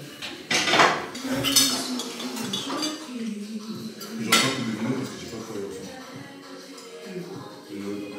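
Dishes and cutlery clinking during washing-up, sharp bursts of clattering plates and rattling utensils close by, with quieter clinks between and voices talking underneath.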